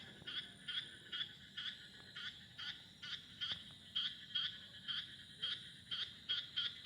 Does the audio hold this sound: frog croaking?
yes